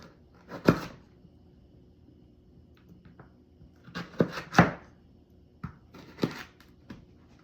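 Knife chopping carrots into small pieces on a cutting board, with a few sparse, separate thuds and clacks spread out over several seconds at moderate volume.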